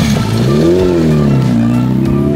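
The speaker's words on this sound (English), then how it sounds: "These bikes make a lot of awesome sounds." A motorcycle engine revs loudly and steadily nearby at a Tokyo car meet, its pitch rising and falling in a throaty drone.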